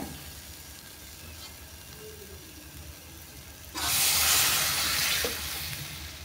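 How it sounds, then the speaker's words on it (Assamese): Fried potatoes in a pan hiss quietly, then a loud, close burst of sizzling erupts as liquid is poured in, holding for a moment before easing to a steadier, softer sizzle. "এতিয়া মই ইয়াত জোল দি দিম।"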